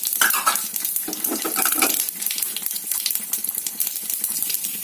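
Chana dal (split chickpeas) dropped into hot oil in a pan, with mustard seeds, cumin and urad dal already in, gives a steady close sizzle and crackle with scattered pops, alone and without talk.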